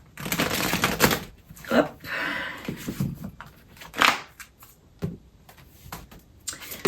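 Tarot cards are shuffled and mixed by hand, giving irregular papery rustles, slaps and riffles in bursts. A voice speaks briefly between them.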